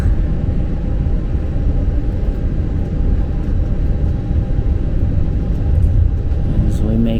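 A Roc Barlovento airliner at Varadero, Cuba taxis toward the runway, its engines a steady loud rumble and roar throughout with no pauses, heard from inside the cabin.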